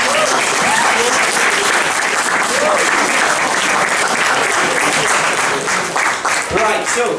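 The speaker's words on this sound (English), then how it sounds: "Give them a round of applause," A crowd claps loudly and continuously at a student comedy gig, with scattered cheers and voices mixed into the dense applause before it starts to thin near the end.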